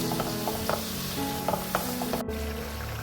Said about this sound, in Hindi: और इसको अब हम मसाला अच्छा सा भून लेंगे।